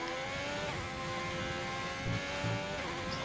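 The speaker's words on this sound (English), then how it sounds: "let's ride on board with the Ferrari and just listen to some pure engine noise" Onboard engine of a Ferrari Formula 1 car in the RSF1 racing game, driving the France circuit: a loud, continuous high-pitched engine drone with little change in pitch, heard alone.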